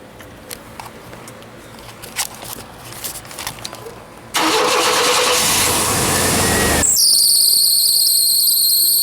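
A 1991 GMC S15 Jimmy 4x4 engine cranks and catches, then runs loud and steady up close. Soon after it starts, a sharp, high squeal from the worn belt and tensioner rises over the idle.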